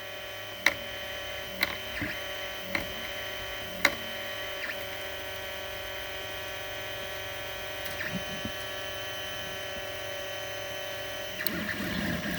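A Creality CR-100 3D printer at work, giving off a faint steady whir and tonal hum with occasional soft ticks and clicks from the moving mechanism, heard close and without voices.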